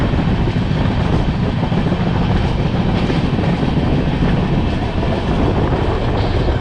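Ramnagar Bandra Superfast Express running on rails, a loud, steady broadband rumble with continuous wheel and carriage noise and faint rhythmic clatter, heard close from on board with no speech.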